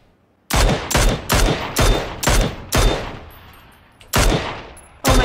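Gunshots fired in PUBG ring out as a rapid string of about eight loud, sharp reports, evenly spaced with a brief pause before the last two.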